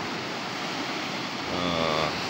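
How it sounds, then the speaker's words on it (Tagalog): Large ocean waves roll and wash onto a beach, a broad, steady roar of surf with wind noise across the microphone, swelling slightly louder toward the end. "Ang lalaki ng alon,"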